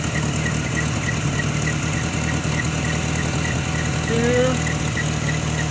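A 1994 Dodge Ram engine idles steadily after a carburetor adjustment, a continuous low rumble throughout with a slight rise in revs near the end and a brief spoken word over it.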